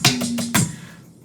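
A quick drum roll fill played on a drum kit during a worship drum lesson, four rapid close strokes in about half a second followed by a short ringing decay, with no talking.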